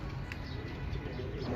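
Pigeons in a breeder's loft give a brief, faint low coo against a soft background hush.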